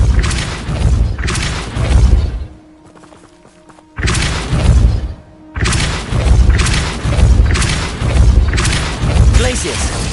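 A Depulso force spell goes off repeatedly in Hogwarts Legacy, heavy booming blasts and thuds in quick succession with a short lull between bursts, mixed with combat noise and a voice calling out spell names.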